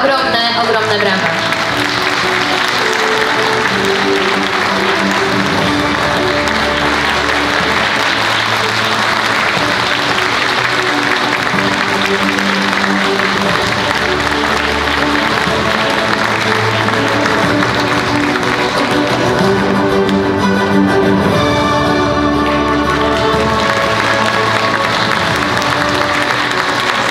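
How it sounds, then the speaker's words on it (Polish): Sustained audience applause fills a hall at the NECROEXPO funeral-industry trade fair awards gala, a dense steady clapping that carries on loudly for the whole stretch with music-like tones beneath. "dla pana Zbigniewa ogromne, ogromne brawa."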